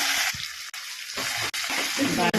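Tomatoes being stirred and sautéed in a pan for vegetable kurma, with a steady broadband sizzle and scraping interrupted by brief pauses between strokes.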